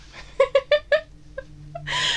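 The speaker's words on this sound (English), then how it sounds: "here's a cat." A cat meows four times in quick succession, close and clear, then gives two softer, shorter mews before a burst of broadband noise at the end.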